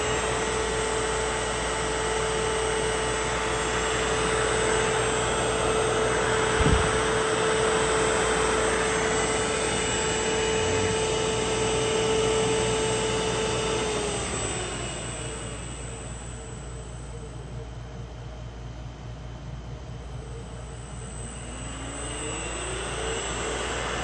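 A 1hp three-phase 220v motor driven by a YL600 VFD runs with a steady whine and broad hum, then ramps down partway through and begins spinning back up, the tone gliding as speed changes; no talking.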